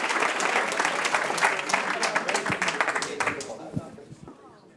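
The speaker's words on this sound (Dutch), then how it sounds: "Geef hem een hartelijk applaus." An audience gives a burst of hearty applause for a world Stratego champion, dense clapping that swells and then tapers off over a few seconds.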